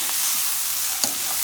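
Sliced karela (bitter melon) frying in a pan gives a steady, close sizzle, with a faint scrape or two as it gets stirred.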